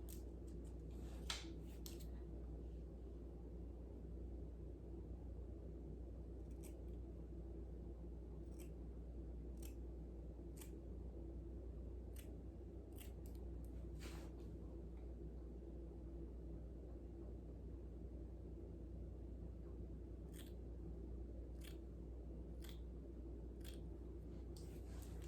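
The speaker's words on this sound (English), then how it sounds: "So I'm gonna give her a trim so that she has a little bit more body to her hair" Scissors snip natural hair during a trim, giving sparse, crisp cuts in irregular bursts over a steady low room hum, close and fairly faint.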